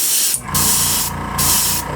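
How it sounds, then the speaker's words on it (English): A can of spray paint is sprayed over a vinyl stencil in short, loud, close hissing bursts, three of them separated by brief pauses, with no talking. "when you spraying, you want to spray straight on"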